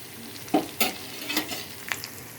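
Chillies frying in a pan are stirred with turmeric added, giving a few distinct scraping strokes over a soft, faint sizzle, close and without talk.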